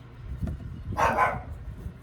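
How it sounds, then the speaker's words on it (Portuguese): A dog gives a single short bark close by, set against a low, continuous background rumble. "o cachorro latindo aqui, o outro latindo lá"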